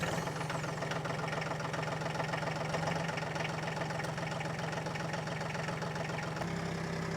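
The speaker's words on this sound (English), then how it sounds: "we're going to use the tractor to help move all this dirt" A steady, low, rhythmic tractor engine chug idles continuously at a moderate distance, with a slight shift in tone near the end.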